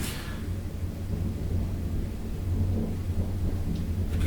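Thunder rumbles low and continuous during pouring rain outside, a muffled, distant roll that swells slightly toward the end, with no voices.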